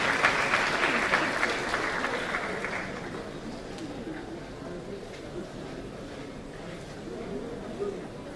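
An audience at a university matriculation ceremony applauds loudly at first, then the clapping thins and fades to a softer patter over several seconds.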